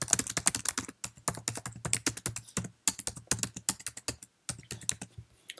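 Rapid bursts of keystrokes on a Mac keyboard, close and crisp, arriving in quick runs separated by brief pauses, with no voice over them.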